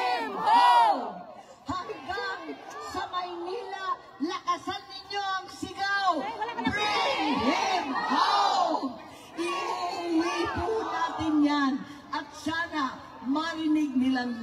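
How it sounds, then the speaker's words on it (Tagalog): A large crowd at a political rally shouts and chants in loud, rhythmic bursts, with a speaker's amplified voice rising over and between the roars. "Hanggang sa Maynila, lakasan ninyo ang sigaw."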